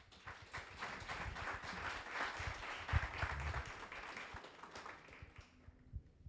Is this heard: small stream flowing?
no